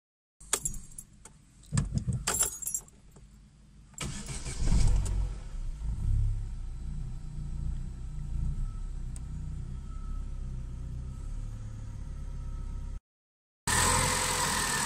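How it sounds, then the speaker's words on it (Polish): An Opel Astra H with a 1.6 petrol engine (A16XER/Z16XER), just fitted with a new crankcase breather oil separator, is started after keys jangle, then settles into a steady close idle. "Dobrze, auto chodzi, uruchomione."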